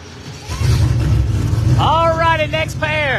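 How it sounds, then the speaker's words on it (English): A drag car at Darlington Dragway idles past with a steady, low, rumbling engine tone while an announcer talks over it. "And he's just going to idle through there."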